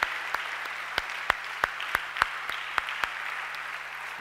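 A church congregation claps in unison, about a dozen sharp, evenly spaced claps ringing out over a steady room hum with no talking.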